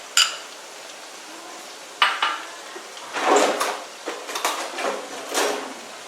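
Yogurt being whisked for a chicken marinade in a metal bowl, heard as a few sharp utensil clinks followed by irregular scraping and stirring strokes, close and moderately loud.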